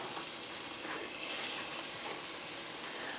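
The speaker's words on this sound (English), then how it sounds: "It's up to heat right now. You can hear it sizzling." A steady, even sizzle of hot oil in a pan, heated for frying chicken for chicken Alfredo fettuccine, hisses without pause, with nobody speaking.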